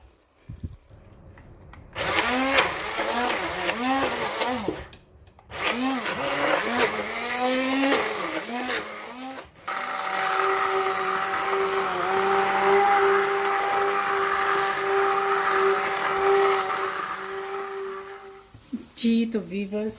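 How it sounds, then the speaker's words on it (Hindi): Haleem mashed with a blender in short bursts: a loud whirring motor that starts, stops and restarts, then runs in one long steady stretch before cutting off, with a few pauses of quiet between. "तो चलिए इसको मैश करते हैं।"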